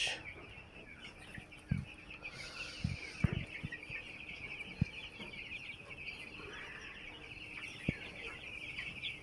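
Chickens cluck softly in a shady bamboo-covered spot on a farm, with a steady hum of insects or distant birds behind and a few sharp knocks scattered through.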